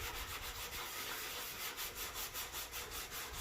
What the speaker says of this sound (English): It's really just scrubbing at it a little bit, running it over the top.